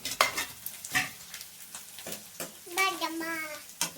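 Tempering spices crackle and sizzle in hot oil with sharp irregular pops and stirring, while a voice speaks briefly over it.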